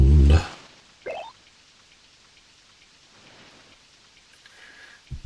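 Rain falls in the TNN Bass Tournament of Champions fishing game, a faint steady patter between a loud low thunder-like boom at the start, a brief swell after one second and another rumble at the end.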